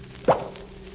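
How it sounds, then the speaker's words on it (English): A champagne bottle opened for a 1940s radio drama, giving a single short pop near the start, followed by a faint fizz over a quiet room-tone background. "Here, open the bottle, Miss Manville."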